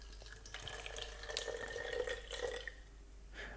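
Distilled water being poured into a measuring container to 45 milliliters for a homemade hair treatment, a thin trickling and dripping stream that runs steadily for a few seconds at close range, with no talking.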